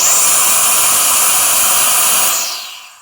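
TD610 Pro jet fan blasting air through an attached nozzle, a loud steady broadband whoosh that cuts off and fades out near the end.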